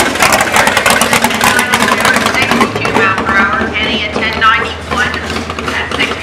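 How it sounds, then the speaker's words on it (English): Chevrolet Corvette running down the drag strip at South Mountain Raceway, a loud, close engine roar that holds steady and then shifts pitch as the car passes, with a lower rumble lingering underneath. "Look at this Corvette coming."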